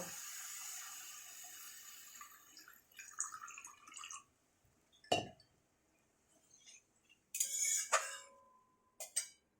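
Small amount of water poured into fried spice paste in a pan, with clinks of a vessel, a brief splash and bursts of hissing sizzle separated by near silence, close and quiet.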